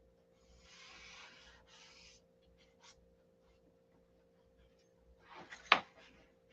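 Sandpaper is rubbed by hand over the finish of a SIG Magnum pistol in two short raspy strokes, followed by quiet scratching and a sharper burst of scraping near the end, with faint background hum.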